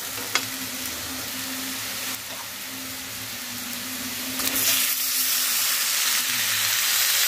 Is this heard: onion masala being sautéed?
yes